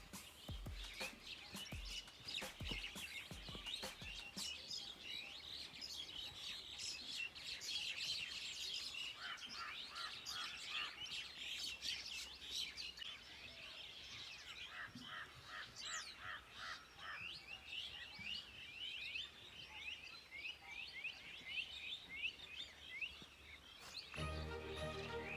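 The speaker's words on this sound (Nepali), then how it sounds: "चराहरूको आवाज कति मिठो सुनिन्छ गानमा" Birds chirp and tweet steadily through a village morning, a dense, continuous layer of bright calls with occasional harsher caws, with no talking.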